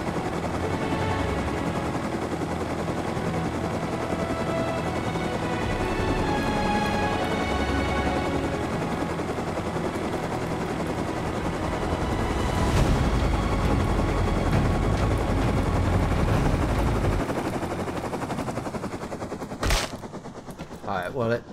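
Mini Copter helicopter in Rust flying and coming in to land, a steady loud rotor and engine drone that runs throughout and ends in a sharp crunching impact near the close, with gunfire-like bursts mixed in.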